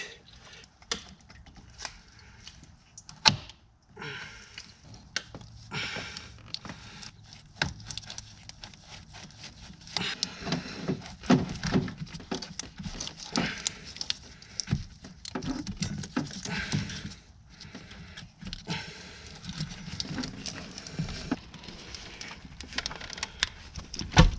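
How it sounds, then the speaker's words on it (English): Hose clamp being worked off a Mini Countryman thermostat housing: scattered metallic clicks, taps and scrapes of tools in the engine bay, irregular and close, growing busier in the second half. "Now we're going to take off that clamp in the back."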